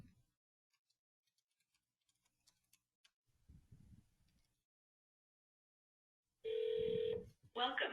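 A single steady ringback tone from a test call dialled into an office line through an Epygi PBX, about a second long and fairly loud, followed at once by a recorded voice greeting.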